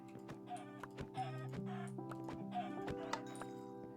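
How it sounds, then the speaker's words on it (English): Chickens clucking in Minecraft Bedrock, a room crowded with birds giving short, repeated clucks in an uneven rhythm over a steady tonal hum, close and moderately quiet. "my room is full of chickens."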